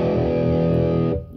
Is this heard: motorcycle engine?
no